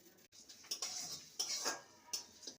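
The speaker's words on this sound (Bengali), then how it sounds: "এলাচ দারচিনি শুকনো খোলায় ভেজে নেব" Whole spices (mace, black peppercorns, cloves, cardamom, cinnamon and broken dried chilli) being dry roasted in a pan, with faint scraping and clinking as they are stirred, in several short bursts at low volume.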